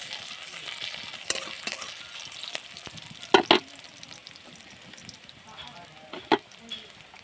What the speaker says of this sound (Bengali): তো পেঁয়াজটা একটু ভেজে নেব